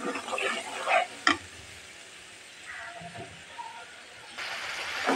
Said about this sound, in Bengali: তাহলে আমি এখন মশলাটাকে কষিয়ে নেব।